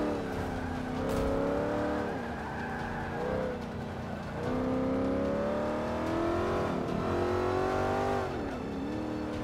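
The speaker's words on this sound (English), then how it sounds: "I do like the noise though. Really hear that engine in the exhaust." A car engine in Forza 5 roars steadily with a throaty exhaust note, pitch rising and falling as it revs and shifts through gears, loud and continuous throughout.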